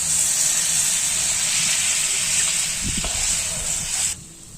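Water poured into a hot pan of cooking fish and vegetables, a loud steady steamy hiss and sizzle with a short bubbling burst near the end before it suddenly drops away.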